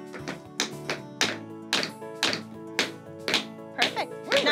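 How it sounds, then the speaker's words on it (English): A shoe toe taps on a floor in about eight distinct, evenly spaced knocks over sustained musical tones. "Put that leg out, don't let it move, but you tap your toe."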